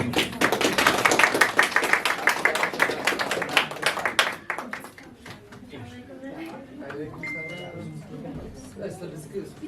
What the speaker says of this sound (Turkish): Alkış.